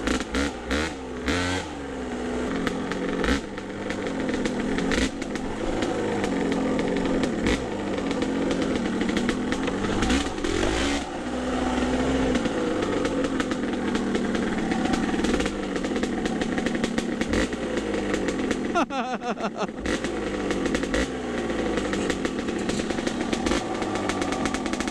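A Kawasaki KDX200 two-stroke trail bike engine works continuously while riding over rough hill-climb ground, loud and close, with steady revving that rises and falls for the whole stretch and no talking.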